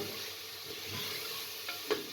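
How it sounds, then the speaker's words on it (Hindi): Masala frying and being stirred in a pot for Kaddu Gosht, a steady low sizzle with a couple of brief scraping stirs near the end, close and fairly quiet. "मज़ीद 2 मिनट तक भून लें।"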